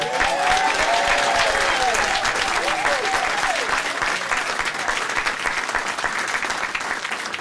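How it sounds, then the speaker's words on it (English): Audience applause at a 2014 African American Heritage Month celebration at Queens Borough Hall, strong sustained clapping from a large room with a few whoops near the start. "every single time Leroy's name is mentioned, everybody claps"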